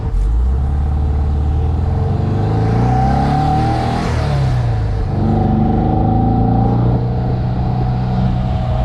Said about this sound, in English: That exhaust note is just phenomenal, guys.